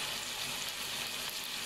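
Chicken pieces deep-fry in a pan of hot oil for chicken fried rice, giving a steady bright crackling sizzle, close and continuous, with no voices.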